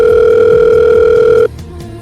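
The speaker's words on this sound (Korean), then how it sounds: "통화 연결음이 제대로 들립니다." Steady telephone ringback tone heard when calling a home number from a mobile phone, a continuous two-pitch tone that cuts off abruptly after about a second and a half, leaving a quiet line.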